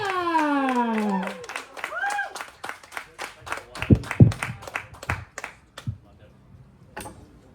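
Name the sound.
audience applauding comedian coming on stage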